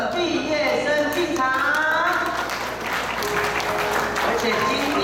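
Warm audience applause at a kindergarten graduation ceremony as the graduates enter, steady clapping from a crowd under music and a voice speaking over it, sustained and moderately loud.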